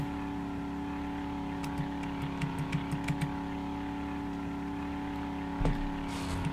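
An engine hums steadily at a constant pitch while a vehicle is driven in the zombie survival game 7 Days To Die, with a short run of light clicks midway and a soft thump near the end; no one speaks.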